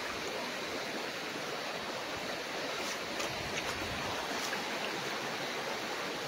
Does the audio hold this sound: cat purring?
no